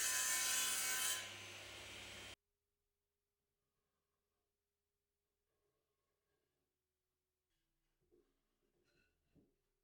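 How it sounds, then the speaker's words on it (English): Wood panel being sawn into pieces for a cocktail case: a loud, steady rasping cut for about two seconds, then near silence broken only by a few faint knocks and shuffles. "I've got the last panel that I can cut down into a couple of pieces to go on the front and the back"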